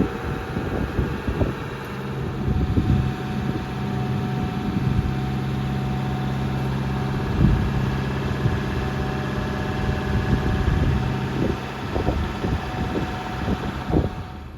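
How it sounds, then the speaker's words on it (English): Toyota Hilux diesel engine idling and warming up during a particulate filter clean, with a steady low hum and occasional soft knocks and thumps nearby, no speech. "I'm just going to bring the revs up in a minute, let it warm up a little bit"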